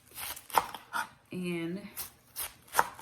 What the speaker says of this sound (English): right now, I'm cutting up my cabbage to go ahead and start sauteing or frying